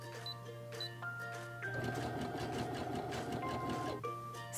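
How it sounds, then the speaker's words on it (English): Brother sewing machine running an overedge zigzag stitch, a steady close mechanical whir with rapid needle ticking that grows louder and busier midway before settling, with no voices. "I'm doing an overedge zigzag, so to start, I'll do stitch 98 to go down the one side."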